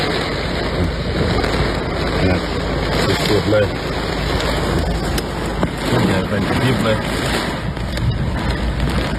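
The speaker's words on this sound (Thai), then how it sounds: "เจอพายุมาแบบนี้เลยครับ ลมทั้งฝนครับ" A summer storm's strong wind and rain batter an outdoor market in Nong Han, Thailand, a loud continuous roaring rush with gusty swells while someone talks over it.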